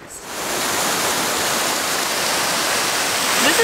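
A small waterfall at Skipton Castle in Yorkshire pours in a steady, broadband rush of falling water, loud and close, continuous throughout with no voices.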